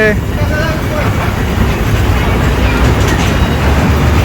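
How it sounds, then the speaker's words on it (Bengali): A children's ride train rolls through the National Zoo's kids' park with a steady, loud rumble of running noise throughout, while voices chatter over it. "ট্রেন গাড়ি বাচ্চাদের ট্রেন গাড়ি রেল গাড়ি"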